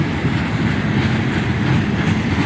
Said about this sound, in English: this eastbound stopped at Bowman really quick